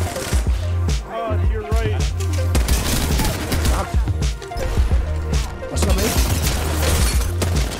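Gunfire from the video game Apex Legends during a Season 19 playtest: rapid bursts of shots over busy game sound, with music and effects layered in and voices talking throughout.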